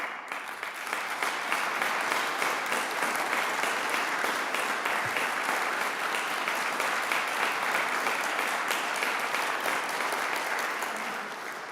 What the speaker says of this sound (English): Those are your grandchildren who are clapping.